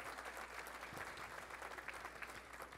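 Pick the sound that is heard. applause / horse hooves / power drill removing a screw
applause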